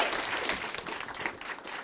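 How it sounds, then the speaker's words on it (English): An audience applauds a musician as he returns to the stage at a podcast taping, a dense, steady wash of many hands clapping together, fairly loud and close, with no talk over it. "You guys want to give a big round of applause"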